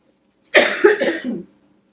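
A single person coughs once, a short, close burst lasting under a second with a couple of rough pulses, set in an otherwise quiet room.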